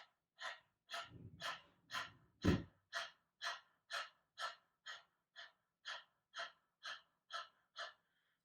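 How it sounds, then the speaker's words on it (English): A person pants rapidly through an open mouth like a dog, about seventeen quick, even, breathy puffs in steady rhythm, with a brief rustle early on. "stick our tongue out, and act like we're a dog panting"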